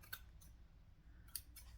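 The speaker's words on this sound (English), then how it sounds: "So now I'm going to grab some scissors." Sharp scissors trim the fabric edges and thread tails of a freshly sewn bikini piece, giving two crisp, quiet snips about a second apart against near silence.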